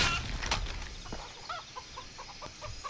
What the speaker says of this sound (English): Hey, it's a chicken.